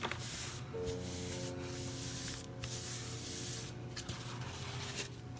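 A steady hissing spray from a spray bottle, close and continuous for several seconds, with a faint low hum underneath.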